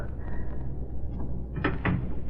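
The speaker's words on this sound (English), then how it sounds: "I hear you close and lock the door." A door is shut and locked in an old radio drama, with a low rumble followed by two sharp knocking clacks close by near the end, no voices over it.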